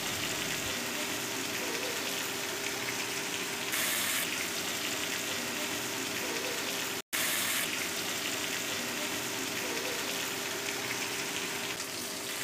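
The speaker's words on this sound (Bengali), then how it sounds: "আলুর টুকরো এবং পটলগুলোকে ভালো করে নেড়ে চেড়ে ভেজে নিতে হবে।" Chunks of potato and pointed gourd fry in a pan, giving a steady, close sizzling hiss with soft crackles throughout, briefly cut by a sudden silent break midway before resuming unchanged.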